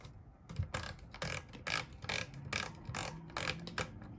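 The depth adjustment knob on an electric hand planer turns with a run of close, quiet ratcheting clicks, arriving in short regular bursts.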